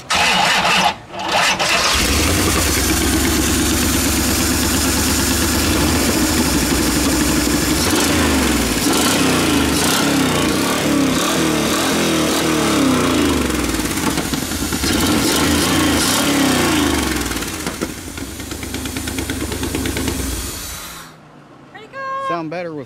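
A Corvette V8 with a leaky header and a leaky collector gasket starts and runs loud and close, a rough, throbbing exhaust note with fluctuating revs for about twenty seconds before cutting off.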